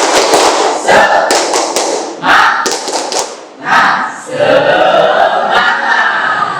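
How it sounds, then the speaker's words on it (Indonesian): Loud classroom group clapping in a quick rhythmic pattern, bursts of claps with short pauses between, mixed with students' voices chanting along. "Oke, tepuk semangat"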